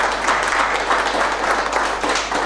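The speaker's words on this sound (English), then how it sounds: "Let us clap this master" Audience applause at a spiritual talk, a steady dense wash of clapping that holds evenly throughout at moderate loudness with no voices over it.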